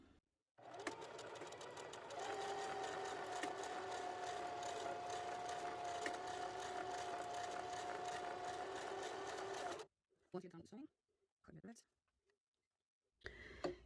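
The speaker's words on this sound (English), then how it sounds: "and then I'm going to start sewing" A sewing machine stitches a buttonhole bonnet with a long steady mechanical whir for about nine seconds, then a few brief bursts and handling clicks, heard close and fairly quiet.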